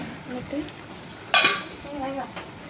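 Aviyal vegetables are stirred in a pot on the stove, with soft scraping and one sharp metallic clatter of the spoon against the pot in the middle, over faint background sizzling.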